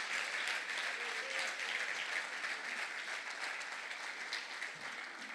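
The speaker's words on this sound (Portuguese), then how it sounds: "Será que você pode aplaudir glorificando ao Senhor aí?" A church congregation applauds in praise during a service, giving sustained, even clapping from many hands at moderate distance with faint voices mixed in.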